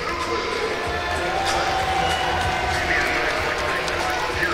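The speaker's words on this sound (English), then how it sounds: "the fans here cheering on their Bulls" Crowd of basketball fans cheering in an arena during an NCAA women's game, Buffalo Bulls at home against Bowling Green; a steady, loud roar of voices with shouting and squeaky-shoe court noise running throughout.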